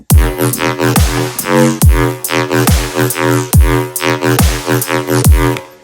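A heavy, wetter-sounding riddim dubstep drop: deep, thick bass notes stab in a steady, bouncing rhythm with sharp percussive hits, loud and dense with no voices.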